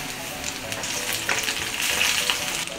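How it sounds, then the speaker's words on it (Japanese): Batter-coated karaage chicken pieces dropped into oil heated over medium flame: a dense, continuous bubbling sizzle, loud and close, growing slightly fuller partway through. "中火で温めたところに、はい、揚げていきます。"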